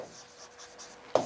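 Pen writing quickly on paper, with a rapid series of soft scratchy strokes heard up close, ending in a sharper tap.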